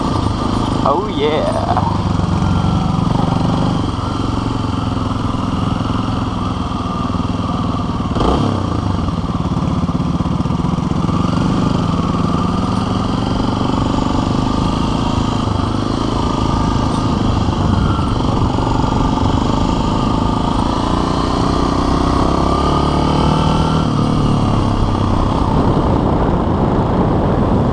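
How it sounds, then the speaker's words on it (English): Several motorcycles ride past in a weaving formation, their engines a loud continuous roar that holds throughout, with voices talking over it. "I'm talking about the motorcycle weave."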